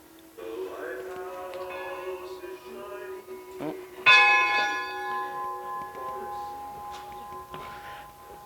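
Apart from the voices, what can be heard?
ringing a bell at a historic schoolhouse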